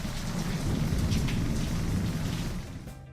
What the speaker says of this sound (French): Pour donner l'ambiance d'un orage